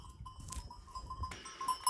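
Sheep and lambs bleating in a snowy pasture, a few short distant calls mixed with faint clinking and outdoor noise.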